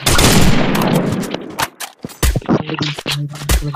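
Gunfire in Garena Free Fire: a loud sustained burst of automatic shots at first, then sharp separate bangs and short bursts, close and punchy, with no talk over them.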